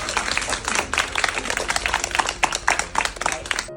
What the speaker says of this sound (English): Some applause for that, please.